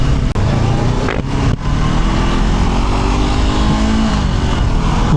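A Honda CL500 scrambler motorcycle of 471cc accelerates onto an expressway, its engine roaring loud and close under heavy wind rush, with brief dips as gears shift.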